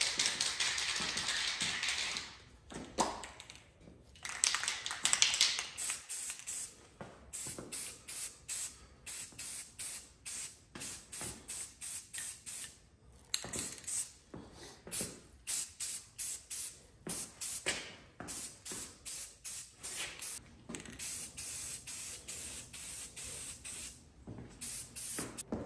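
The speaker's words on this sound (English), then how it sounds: "it's in a spray can, so let's get some paint tossed on these." Rust-Oleum Sunrise Red spray paint hissing from an aerosol can onto small tractor parts, in repeated short bursts with brief pauses between them, fairly close and with no talking.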